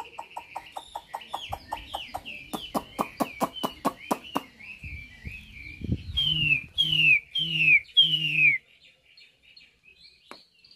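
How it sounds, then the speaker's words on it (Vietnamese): A caged hwamei songbird, held in the hand, sings a busy run of rapid repeated chirps, then clear rising and falling whistles, fairly close and lively, with some low voices and handling noise underneath. "con này cầm tay như thế này tí nó còn hót"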